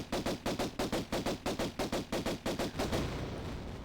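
Pistol gunfire in the 1996 Tomb Raider video game, at the Obelisk of Khamoon level, is heard as a rapid, evenly spaced string of about seventeen loud shots. A brief sustained noise follows the last shot, with no talk.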